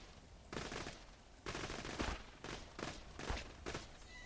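Rapid bursts of automatic gunfire from the Infinity pistol in Borderlands 2, fired in several sustained volleys with short gaps between them, loud and unbroken by talk.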